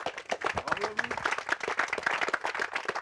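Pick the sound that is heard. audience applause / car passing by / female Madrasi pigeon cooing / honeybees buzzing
audience applause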